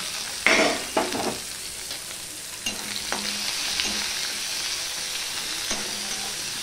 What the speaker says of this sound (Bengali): যতক্ষণ না পেঁয়াজটা লাল লাল হয়ে ভাজা হচ্ছে ততক্ষণ আমি ওয়েট করব